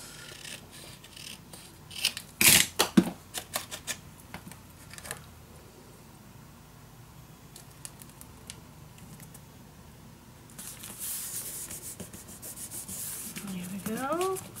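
Scissors snip through Ciao Bella patterned paper while trimming it shorter for a travel mini album, with a sharp cluster of close cuts and rustling, then quieter handling and paper rubbing with no talk.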